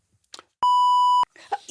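A single sharp censor bleep, a steady pure tone lasting about half a second, set between bits of speech.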